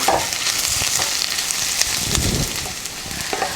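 Onions, ginger and garlic fry in hot oil in a pan while aloo baingan is being made, giving a steady close sizzle with brief stirring scrapes and no voices.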